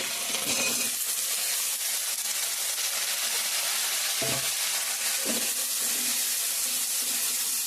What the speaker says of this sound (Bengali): আলুটা ভাজা ভাজা করে নেবো